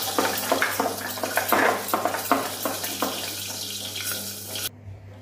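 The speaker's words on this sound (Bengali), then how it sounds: "মূলো পাতা কেটে ধুয়ে পরিষ্কার করে নেব।" Radish leaves are rinsed by hand in water at a kitchen sink, with splashing and sloshing strokes repeating steadily over a low background hum, before the sound cuts off abruptly near the end.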